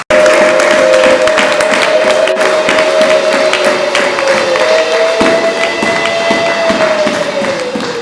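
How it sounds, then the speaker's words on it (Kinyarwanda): Applause and ululation fill a wedding celebration in Rwanda, a dense, steady wall of clapping with a sustained high trilling cry held throughout, loud and continuous for the whole stretch. "tukabanza tugaha amashyi y'impundu"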